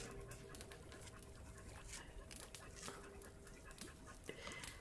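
Tired, happy dogs pant steadily at close range, a quick rhythmic breathing over a soft noisy indoor background, with a few faint clicks and brief higher yips scattered through.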